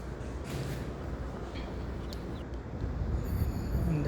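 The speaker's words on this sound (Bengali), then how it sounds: "ওইদিকে যেটা যাচ্ছে এটা লোসাইল শহরের জন্য স্পেশাল ট্রেন সার্ভিস" A special service train in Lusail city, Qatar rumbles past at a distance, a low steady rolling noise that swells slightly toward the end, with faint high wheel squeal.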